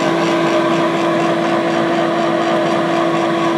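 Blower on top of a Labconco multi-hazard glovebox running steadily, a loud constant whir with a sustained mechanical hum and no talk.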